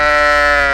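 A single loud, close sheep bleat, used as an audiobook sound effect, sustains with a steady, nasal, wavering tone for under a second and stands alone.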